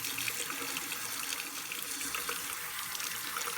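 A tap runs steadily into a sink while the water warms up. The soft, even rush of running water continues alone, with no voices.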